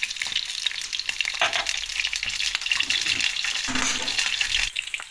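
Mustard seeds tempering in hot oil for a spinach and lentil dish, a steady dense crackling sizzle with bursts of popping and stirring, close and fairly loud, with no talk.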